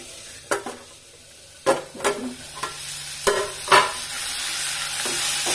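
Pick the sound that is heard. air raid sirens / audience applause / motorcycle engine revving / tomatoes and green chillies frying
tomatoes and green chillies frying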